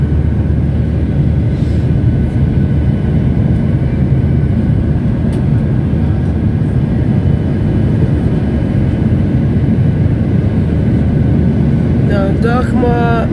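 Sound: airplane engine noise inside cabin

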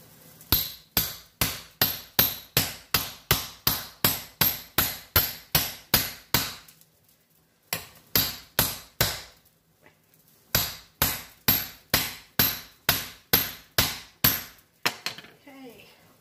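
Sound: chopping through beef rib bone with a knife

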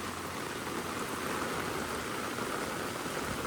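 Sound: heavy rain falling in a village

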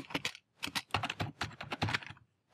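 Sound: typing on a computer keyboard

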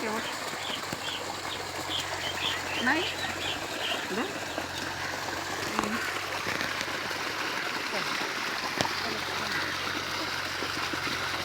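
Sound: birds chirping

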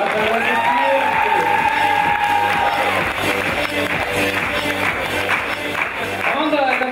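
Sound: audience applause for KVN team

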